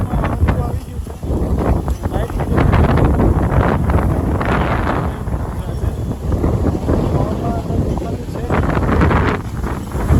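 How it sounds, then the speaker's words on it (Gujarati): Strong gusty wind buffets the microphone as a storm approaches at dusk in Navsari, making a loud, continuous low roar that rises and falls across the whole stretch. "જેવું અંધારું થયું એમાં તો પવન ચાલુ થઈ ગયો, લાગતું તો વાવાઝોડું આવશે."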